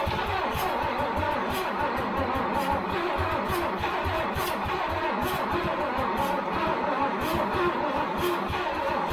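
An old seized engine in an FJ40 Toyota Land Cruiser cranks and sputters in rapid uneven bursts, struggling to catch, loud and close throughout.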